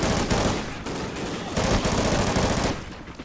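Sustained automatic gunfire in the Call of Duty: Ghosts campaign, loud and close, dense overlapping rattling bursts that continue for about three seconds with brief gaps between volleys.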